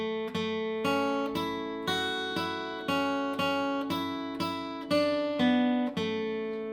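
Capoed guitar plays a short melodic ending lick, about a dozen plucked notes at an even, unhurried pace, each ringing clearly and close with no talking.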